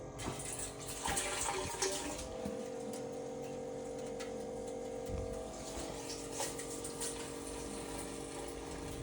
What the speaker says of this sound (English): So we'll stick this in the top of our fermenter and turn on our ball valve.